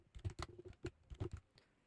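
Fingers type text on a computer keyboard, giving a quick, close burst of about a dozen crisp key clicks in an uneven rhythm, with a short pause in the middle and no voices.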